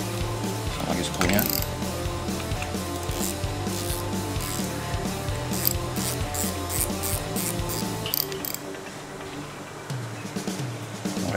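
A Shimano Stradic FL spinning reel turns its clicker mechanism, producing a steady, close-up stream of fine ratcheting clicks that runs continuously for about eight seconds before easing into quieter, sparser ticking.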